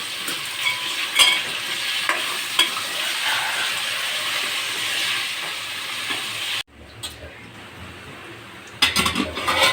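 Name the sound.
frying bottle gourd pieces with onion in a pan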